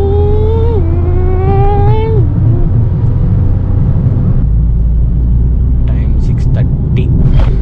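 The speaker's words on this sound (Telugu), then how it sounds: "బజ్జైందబ్బా కారు, లారీ రెండు అనుకుంటా" A car and a lorry rush past close by on the road, a loud low rumble with a descending whine, followed by steady road noise and people talking inside the vehicle.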